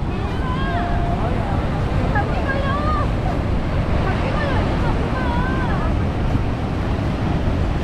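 Thundering roar of Niagara Falls at the Cave of the Winds walkway, a broad, constant wash of falling water close by, with a voice talking over it throughout.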